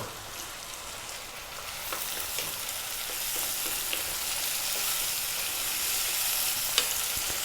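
Whole fresh chillies and a couple of tomatoes frying in a pan for spicy dal, a steady hissing sizzle that swells slightly with a few sharp crackles, close and alone.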